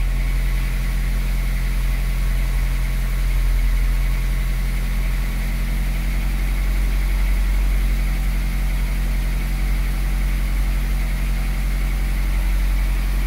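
A Nissan Figaro's engine runs steadily and close by, a constant low hum with no voices over it and no clear rise or fall in pitch.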